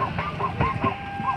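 A bird calls outdoors in a short burst of quick, repeated clucking chirps close by.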